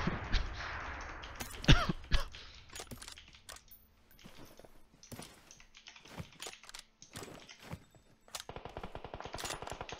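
Rapid bursts of automatic gunfire in the mobile battle royale game PUBG Mobile, dense rattling volleys mixed with sharp single shots that run through the whole stretch at a steady, moderately loud level.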